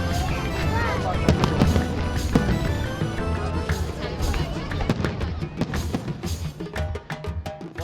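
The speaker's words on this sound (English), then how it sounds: "Did you enjoy the fireworks?" Fireworks at a National Day celebration in Bahrain crackle and pop in a dense, continuous barrage, with sharp bursts thickening toward the end over a steady outdoor crowd murmur.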